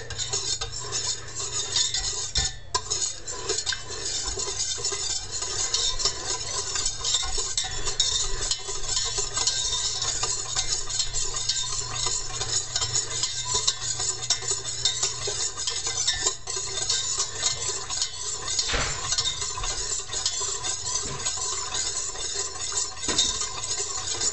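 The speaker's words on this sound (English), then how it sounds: "it's approximately half a cup of butter, and it's going to be melted" Half a cup of butter melting in a pot for beef pot pie: a continuous close sizzle with steady stirring and occasional clinks of a utensil against the pot, with no talking.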